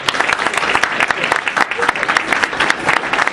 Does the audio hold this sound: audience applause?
yes